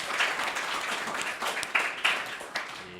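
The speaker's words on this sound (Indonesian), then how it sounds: "Tepuk tangan untuk temannya ya." A university class gives a round of applause for a classmate returning to their seat, with a loose mix of hand claps, a few sharper individual claps standing out, at moderate volume.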